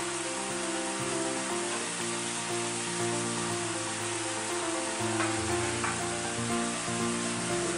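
Celery hits a hot pan for a homemade turkey pot pie filling, producing a continuous, even sizzle and crackle that stays close and fairly loud, with no voices.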